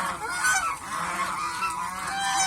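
Domestic geese at a small goose farm in Mohanganj honk loudly and repeatedly at close range, overlapping calls filling the whole moment without talking.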